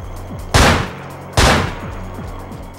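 Enemy gunfire in the video game Manhunt comes as two loud, sharp shots about a second apart. Each blast rings out and decays over a low background hum.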